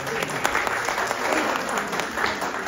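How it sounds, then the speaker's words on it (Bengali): An audience at a Bangladeshi cultural evening in Binghamton, New York, claps steadily throughout, a dense sustained round of applause with a faint constant high tone in the background. "একটা জোরে করো তালি প্লিজ"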